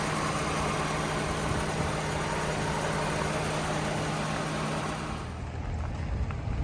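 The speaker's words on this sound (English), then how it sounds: "V6 runs nice and smooth." A 2012 Toyota Avalon Limited V6 idling under the hood, a steady smooth low engine hum held close and even, with a slight change in tone near the end.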